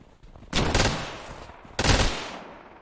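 Enemies fire two sharp bursts of gunfire in the video game Rogue North, each a loud, close rattle that fades into a short decaying tail.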